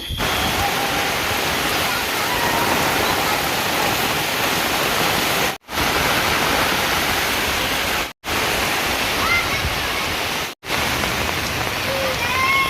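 Heavy rain pours down steadily during a Kalbaishakhi storm in a village, with strong wind driving it. The dense, continuous roar stays loud throughout and cuts out briefly three times.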